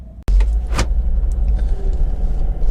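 Volvo XC90 2.4 D5 R-Design diesel automatic with all-wheel drive on a road test, a steady low engine and road rumble inside the cabin after a sharp click at the start, with no talking.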